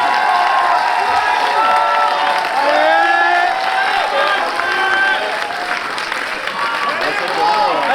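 A live audience at a J&J social dance final applauds and cheers loudly and continuously, a dense crowd roar with shouts rising over it, while a voice speaks over the noise.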